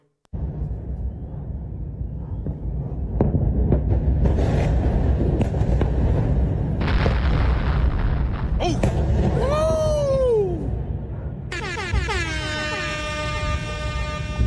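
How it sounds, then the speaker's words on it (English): War footage of missile strikes and explosions: sustained roaring, booming rumble with loud blasts, a whining descending tone, then a long blaring horn-like siren to the end, with faint voices underneath. "Look at all them missiles cutting through that Iron Dome."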